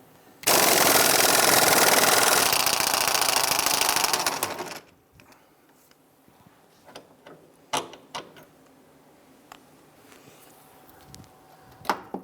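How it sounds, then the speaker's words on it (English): A loud burst of rapid mechanical rattling, like an impact or ratchet tool, runs for about four seconds while a bolt is removed from a rear sway bar link on a 1999-2004 Jeep Grand Cherokee; afterwards only scattered tool clicks and clanks follow. "Use a 15mm socket here and a 21mm wrench on the nut on the back side."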